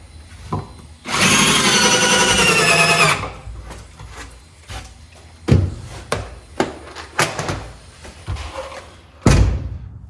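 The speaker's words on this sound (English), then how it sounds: "The screws look like they're going in really easy." Power drill driving screws into pallet wood while building a dirt bike stand, one long steady whir of about two seconds followed by scattered loud thumps and knocks of handled wood.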